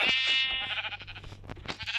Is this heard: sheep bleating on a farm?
yes